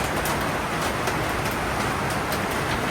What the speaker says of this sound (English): It's started raining again.